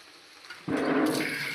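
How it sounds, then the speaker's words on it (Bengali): Eggplant slices coated in gram flour batter with nigella seeds drop into hot oil one at a time, setting off a sudden loud, close bubbling sizzle that holds steady after a quiet start. "একটা একটা করে ছাড়া হচ্ছে তেলে।"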